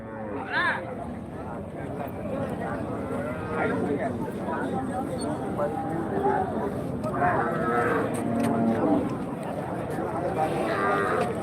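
Cattle at a weekly Friday livestock market in Krishnagiri district moo repeatedly, several loud close calls over a busy crowd murmur and nearby talking.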